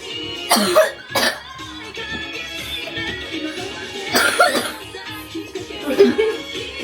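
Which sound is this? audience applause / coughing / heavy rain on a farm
coughing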